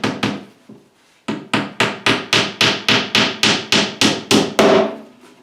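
Repeated hammer blows from a 20-ounce hammer driving small nails into a homemade wooden tackle box, a few spaced taps followed by a steady run of about a dozen sharp, loud, evenly timed strikes close by.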